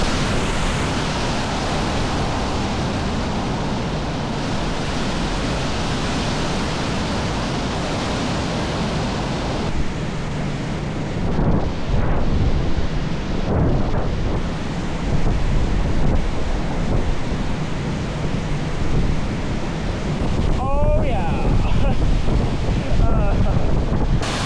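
Steady roar of Aunt Sarah's Falls waterfall at Montour Falls, New York, a continuous broadband rush of falling water that holds constant throughout with faint wind buffeting, no talk.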